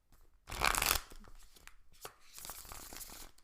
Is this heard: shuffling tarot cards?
yes